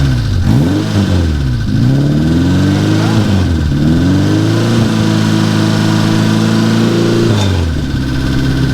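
The engine of a Porsche 550 Spyder kit car revs repeatedly, loud and close, with several rising and falling blips before settling into a steady higher idle.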